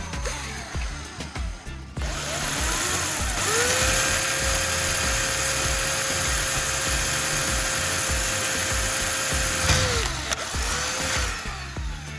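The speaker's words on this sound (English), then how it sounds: "Drill a small hole in the bottle cap, just big enough to fit a thin plastic tube through later." A high-pitched small drill whines steadily for several seconds while drilling a hole in a plastic bottle cap, starting and stopping, with faint clicks and handling noise around it.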